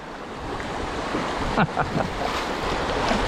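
River waves splash and rush around a float craft on the Mulberry River, a steady broadband wash with a few sharper slaps and some wind buffeting on the microphone.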